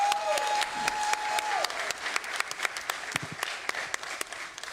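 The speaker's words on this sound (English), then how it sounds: "can we give a big round of applause for Kai Cenat?" A crowd applauds steadily at an award ceremony, a dense wash of clapping that holds for the whole stretch, with a brief high whistle-like tone near the start.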